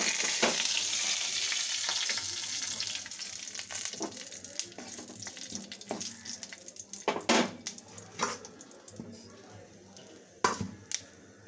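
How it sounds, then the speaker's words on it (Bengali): Panch phoron spices, a bay leaf and chili frying in hot oil for a Bengali neem jhol, a steady close sizzle with scattered sharp crackles and pops, fading slightly over time. "তার মধ্যে তেল দিয়ে দিলাম এবার দিয়ে দেবো পাঁচ ফোড়ন তেজপাতা ও লঙ্কা"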